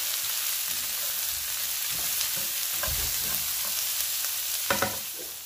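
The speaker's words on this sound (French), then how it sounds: "Je vais ajouter les poireaux. Je mélange et je laisse dorer également 5 minutes." Leeks frying in a pan with stirring, a steady sizzle carrying through with soft scraping knocks and a couple of sharper clatters near the end, no talking.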